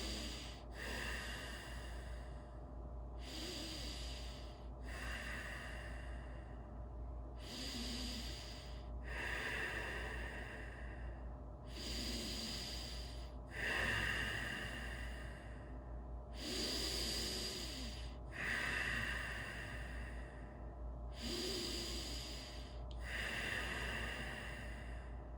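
Slow, deep breathing in a yoga class: about nine strong, airy exhalations come at a steady rhythm of a few seconds apart, close and clear over a low constant hum, with no talking.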